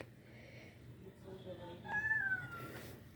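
Cat meows played back from a phone or screen, a few soft mewing calls rising mid-clip over a low room hum, thin and small-speaker in tone with a brighter cry near the end.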